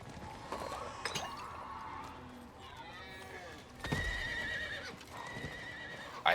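A horse in the game Diablo IV neighs and whinnies among hoofbeats and faint clinking, with someone speaking quietly in the background.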